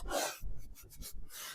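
Firm, repeated rubbing strokes press transfer lettering onto the back of a thrifted frame, a dry rasping scrape in several short bursts, close and moderately loud, with no talking.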